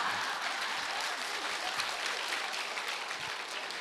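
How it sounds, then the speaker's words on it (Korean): A studio audience claps steadily throughout, a continuous, fairly faint patter of many hands with no talk over it. "여기 박수 치는 사람들이 왜 치는지 아나?"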